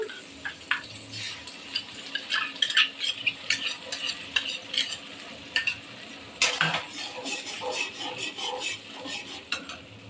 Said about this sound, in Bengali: জাস্ট একটু নাড়াচাড়া করে নেব